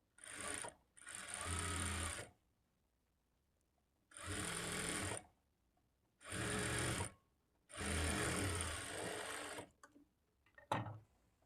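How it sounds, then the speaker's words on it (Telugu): A sewing machine stitching blouse lining, four rapid whirring runs of a few seconds each separated by pauses, close and clear, ending with a couple of short clicks, no talk. "ఈ లైనింగ్‌ని ఇలా ఫోల్డ్ చేసుకొని ఈ చివరన ఒక స్టిచ్ వేసుకోవాలి."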